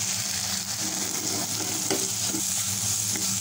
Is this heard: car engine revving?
no